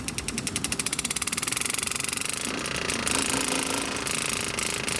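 A DIY air engraver handpiece driven by a compressor chatters in a fast, steady pneumatic hammering, close and loud, with the pulse rate shifting slightly partway through as its speed is adjusted.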